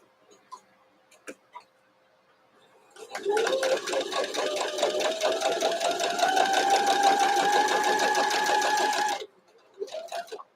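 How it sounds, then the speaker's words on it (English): A sewing machine stitches a Halloween heart quilt block in one continuous run of about six seconds, a fast, even mechanical rattle that starts and stops abruptly, with a few faint clicks before and a short burst after. "Sewing up to my pin so we don't freak everybody out with that noise that it's going to make if I hit it."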